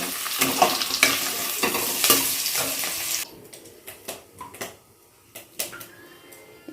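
Paneer pieces frying in a small amount of hot oil in a pan, plain without salt or turmeric, for matar paneer: a loud, close sizzle for about three seconds, then it drops to quieter crackles and scattered utensil clicks.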